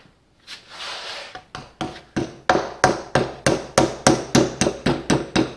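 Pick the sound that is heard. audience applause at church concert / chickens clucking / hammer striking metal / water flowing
hammer striking metal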